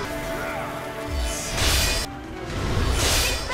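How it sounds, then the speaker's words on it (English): Critical attack warning cue from the boss Yu Ji in the action game Wo Long, heard as swelling whooshing bursts amid crashing combat noise, loud and close with two distinct surges. "the game will play you a sound which sounds like this"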